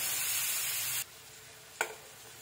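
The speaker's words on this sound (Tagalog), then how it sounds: "And then, i-fry ko muna siya." Garlic, pepper and soy-marinated beef sizzles loudly in a frying pan for about a second, then the hiss cuts to a quieter simmer broken by one brief clatter, with no talking.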